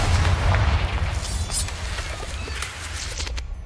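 Repeated Confringo fire spells explode in the video game Hogwarts Legacy, heavy booming blasts with deep rumbling low end that roll on continuously and fairly loud, with fainter crackling bursts on top.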